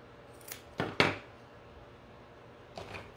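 Cutting a piece for a rustic harvest rake, a few faint sharp snips or clacks in a quiet room, two close together then one more after a pause.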